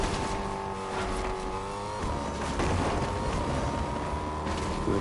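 A car driven in the video game Fortnite, its engine a steady drone with a shift in pitch partway through, continuous and moderately loud, with no talk.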